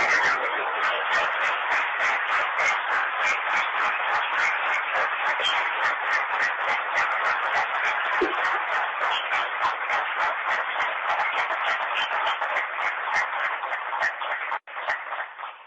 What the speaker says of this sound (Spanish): Vayan estos aplausos para nuestro gran Dios Jehová